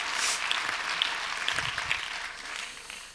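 Applause from an audience at the opening ceremony of the FIFF 2023 film festival, a steady mid-level patter of clapping hands that holds for a few seconds and tapers slightly toward the end.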